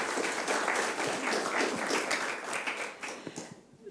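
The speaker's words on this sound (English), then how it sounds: "Please give a round of applause" An audience at an international seminar applauds a speaker with brisk, moderately distant clapping that swells, then thins out and fades over nearly four seconds.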